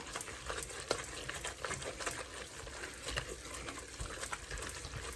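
Onion marmalade with brown sugar being stirred in a pan on the hob, a steady soft scraping and gentle bubbling sizzle with scattered spoon clicks, moderately quiet and continuous, with no voices.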